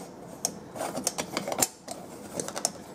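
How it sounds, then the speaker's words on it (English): A Cuban coffee espresso pot has its top screwed on. Close, sharp metallic clicks and scrapes come in short irregular bursts with brief pauses, with no talking. "So then it's just a matter of screwing the top on."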